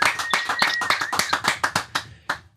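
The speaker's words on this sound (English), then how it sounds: "Everybody, round of applause." A small group on a podcast claps a quick round of applause for a guest, about a dozen sharp, close claps that thin out and stop within a few seconds.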